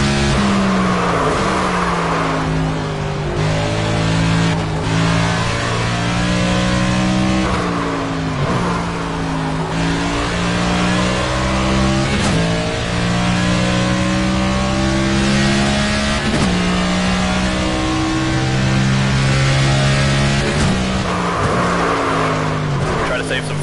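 Stock car engines roar and rev steadily in the NASCAR 25 racing game, loud and continuous, with pitch rising and dropping through gear shifts and corners and a player's voice talking over them.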